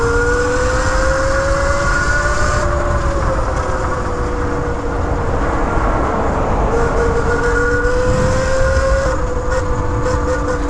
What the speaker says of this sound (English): I like how you can hear it kind of revving.